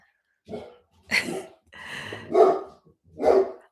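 A dog lets out a string of four or five barks and yips of varied length, fairly close and moderately loud, with brief gaps between them.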